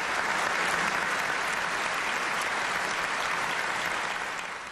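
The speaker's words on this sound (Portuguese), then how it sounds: "O agradecimento vem em forma de aplausos demorados" Long, steady applause from a large crowd, a dense even wash of clapping that holds at full strength before tapering slightly at the very end.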